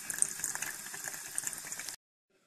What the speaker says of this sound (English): Fill your water bottle till it's all the way full.